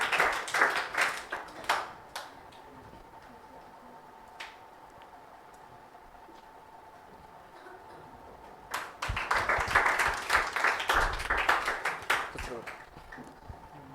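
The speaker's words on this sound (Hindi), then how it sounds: "इसके लिए भी जोरदार तालियां" Scattered clapping from a small group at a school results celebration, in two bursts, loud at the start and again after a quiet stretch with only occasional claps in between.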